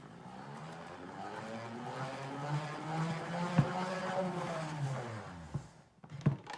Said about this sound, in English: let's spin dry it.